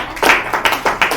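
An audience clapping together in a quick, even rhythm of about four sharp claps in a row.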